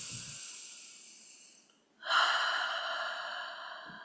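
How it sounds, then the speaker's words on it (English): Slow breathing in and out through the nose during a quiet meditation, a long soft exhale tapering into a brief pause, then a fuller airy inhale that gradually fades, close and alone. "begin to breathe in through the nose and out through the nose naturally"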